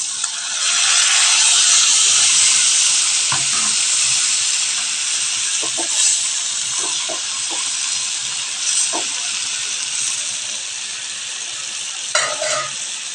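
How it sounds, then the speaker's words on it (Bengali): Mustard paste sizzling in a hot pan with prawns, a loud, close, continuous hiss that slowly settles, broken by a few soft clicks and utensil taps. "সর্ষের বাটাটা চিংড়ি মাছে দিয়ে দিয়েছি"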